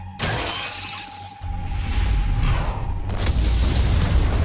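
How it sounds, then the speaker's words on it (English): Booming, crackling blasts of fireworks going off in the ant tunnels in Solo Leveling Arise, a loud burst early on followed by a dense, sustained rumble of explosions. "Looks like fireworks are going off in the ant tunnels."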